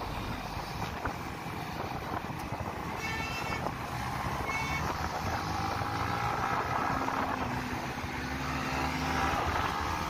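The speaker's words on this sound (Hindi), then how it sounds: "तो यहाँ से मैंने कर दिया बाइक भागना थोड़ा स्टार्ट, क्योंकि एकदम पूरा ट्रैफिक नहीं है इसलिए।" A Yamaha MT15 motorcycle rides along a road with light traffic, its engine droning steadily under strong wind rush that fills the whole stretch at a constant, fairly loud level.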